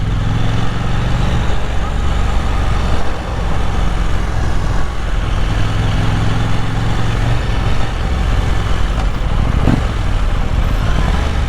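A 2023 KTM Duke 890 motorcycle rides through Manly in Sydney, its engine drone steady and close beneath heavy wind rush, with the pitch shifting slightly as the rider changes speed.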